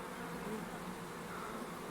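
Honey bees buzz steadily around their hives outdoors, a dense, continuous hum of many insects at moderate distance with no voices over it.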